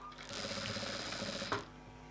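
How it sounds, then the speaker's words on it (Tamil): Close sewing machine stitching a blouse hook piece, a brief steady mechanical whir lasting about a second and a half, ending with a small click, then quiet. "இந்த இடத்துல தையல் போடணும்"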